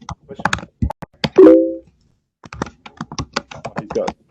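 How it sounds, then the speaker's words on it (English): Rapid clicks of typing on a computer keyboard come through an online meeting call with a poor connection, close and uneven in bursts, with a brief tonal beep partway through and a short gap of silence. "you can hear the typing"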